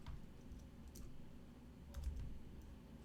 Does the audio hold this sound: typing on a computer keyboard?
yes